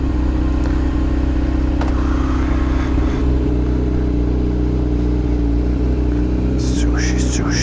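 A motorcycle engine runs steadily while riding, a close, loud low drone with a few brief rising revs, under a rider's voice and wind noise.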